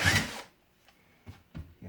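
A drill bites into wood in a loud, rough burst lasting under half a second, followed by a few short, quieter scraping bursts.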